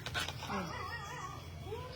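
A dog whimpers and yips in short, high, wavering cries over a steady low background hum, with faint talk nearby.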